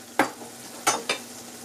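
Rice poured into sizzling sofrito with Carmela sausage and stirred, three short scraping stirs against the pot over a low steady sizzle, close and alone.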